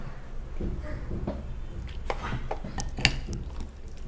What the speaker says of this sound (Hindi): चलिए इसको हम इस तरह से मिक्स कर लें और इसमें हम दही भी ऐड कर देते हैं।